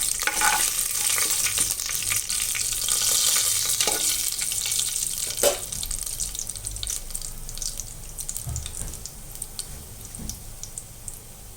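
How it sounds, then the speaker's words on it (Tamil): Dried turkey berries (sundakkai vathal) crackle as they fry in hot oil, a steady close sizzle with scattered stirring knocks and clinks running throughout. "இது அதிகமாக வறுபடக்கூடாது, தீஞ்சு போயிடும். தீஞ்சிச்சுன்னா கசப்பாயிடும் இந்த சுண்டக்காய் வத்தல்."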